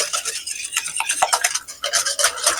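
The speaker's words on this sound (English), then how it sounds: "whisk that egg mixture up" A wire whisk beats an egg mixture in a bowl, giving rapid, bright rhythmic tapping and swishing strokes, close and fairly loud, with no talking.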